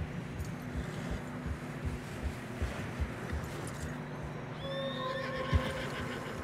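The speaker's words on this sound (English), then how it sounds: "Horse, struggling." In the video game Red Dead Redemption 2, a horse's hooves thud heavily and irregularly through snow, then the struggling horse lets out a strained, rising whinny near the end.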